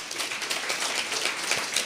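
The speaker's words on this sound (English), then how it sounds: "please give yourselves a round of applause" Steady, moderately loud applause from a conference audience at a closing ceremony, a dense continuous patter of many hands with no talk over it.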